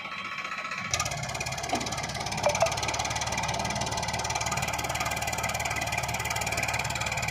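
A Farmtrac 50 tractor engine hauls a loaded trolley stuck in place, a steady low diesel drone with a throbbing pulse that starts abruptly after a second of quiet and holds evenly, close by, with a few faint knocks.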